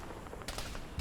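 Faint, distant gunfire in the military shooter Arma 3: a few sharp cracks spaced apart over a low, steady background.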